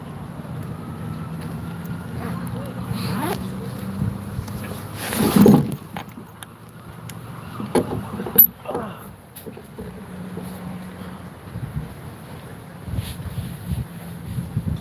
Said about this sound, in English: And it gets windy.